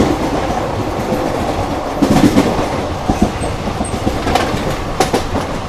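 An Intercity Express train rolls between Somnath and Ahmedabad, a loud steady rumble inside the coach with rhythmic wheel clicks over rail joints and a few sharper knocks, no voices.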